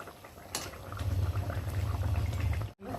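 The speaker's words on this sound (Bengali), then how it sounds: "আর আমি এদিক ফোটাতে থাকি, একটু চিনি দিই, সেটা ফোটাতে ভালো লাগে" Fish curry with a little sugar boiling in a pot, a steady close bubbling simmer that swells after a moment and drops out briefly near the end, with no voices.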